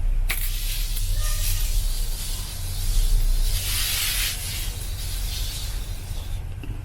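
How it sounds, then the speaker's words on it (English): Repeated hissing bursts of a fine setting-spray mist on skin, close and steady, with a stronger spritz around the middle. "I'm going to take my setting spray because I didn't set my skin down yet"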